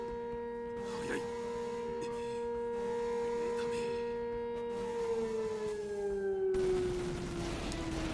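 A doomsday siren wails outside in the visual novel Muv-Luv Unlimited: The Day After. It holds a steady, layered electronic tone that slowly drops in pitch near the end, carrying on continuously and moderately loud over faint background sounds.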